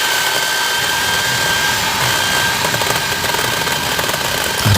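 A newly assembled chainsaw runs during a test cut into wood, its engine roaring loud and steady the whole time with a slight rough, rattling texture.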